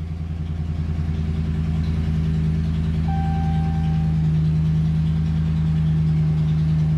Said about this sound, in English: So let's jump in this truck, man, and start this thing up.